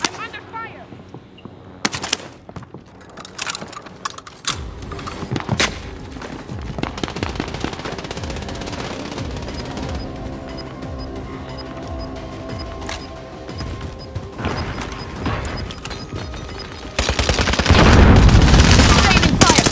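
Gunfire in Call of Duty: Warzone, with scattered shots and rapid bursts crackling through the mix, building to a loud, dense volley and heavy booms near the end.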